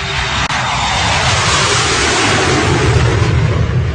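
A loud, steady broadband roar like a large, low, slow-flying airplane engine in fog, continuous and close throughout with no voices.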